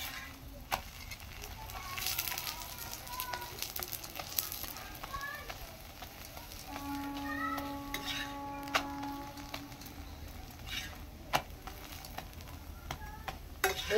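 Paratha frying in oil on a hot pan, a low steady sizzle with sharp utensil taps and scrapes, under background noise and a faint tonal hum.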